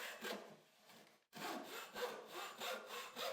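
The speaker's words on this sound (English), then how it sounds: "The saw build is now complete, and here it is being tested out for its first saw." A handmade cross-cut frame saw cuts a block of wood in a quiet series of rhythmic rasping push-pull strokes, with a brief pause partway through.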